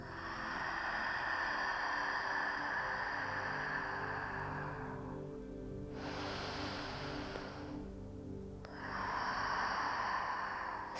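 Breathing during an abdominal exercise, a long steady breathy exhale close to the ear, a short pause of quieter airy noise, then another strong exhale begins.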